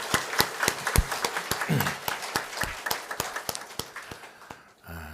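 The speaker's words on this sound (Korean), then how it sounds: "그분들께 또 감사의 박수를 한번 하겠습니다" Grateful applause in a church hall honors the kitchen volunteers and staff, a moderate crowd clapping at a fairly sparse, distinct pace with individual claps standing out for about five seconds before dying away.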